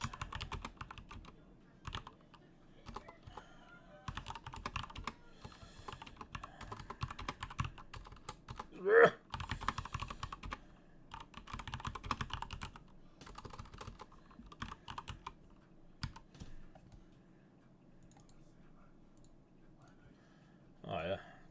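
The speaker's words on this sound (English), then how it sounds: "keyboard loud" Computer keyboard typing in bursts of quick, close clicks that pause and resume, with louder clattering keystrokes at times and soft voices in the background.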